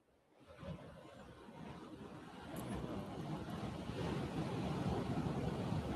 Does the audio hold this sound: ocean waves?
yes